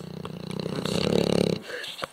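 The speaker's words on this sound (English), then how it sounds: "You snoring?" A dog snores up close in a quiet room, a single long, rough, throaty rattle that builds and then cuts off, followed by a brief snort.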